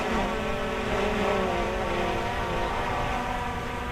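A consumer camera drone flying forward while turning, its propellers giving a steady, loud, high-pitched motor whine that holds throughout with no talking.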